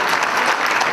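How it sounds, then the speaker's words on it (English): An audience at a university poetry slam finals claps steadily and loudly in a dense, continuous wash of applause with no talk over it. "keep that applause going for the next one coming to the stage"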